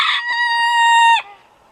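A rooster crows once in a farmyard coop, a loud, close, drawn-out harmonic call that holds steady and then cuts off sharply, followed by near silence.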